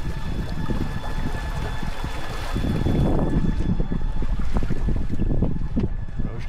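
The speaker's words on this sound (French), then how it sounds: "Comme le vent est tombé, j'ai été obligé de mettre le moteur en route." Sailboat auxiliary engine idling at low revs in light air off Brittany, a steady low drone running throughout alongside wind rush and water noise, with no talking.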